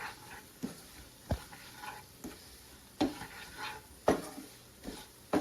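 Scattered scraping and clinking of a utensil stirring chicken frying in oil in a pan for chicken pickle, with a soft sizzle underneath, close and fairly quiet.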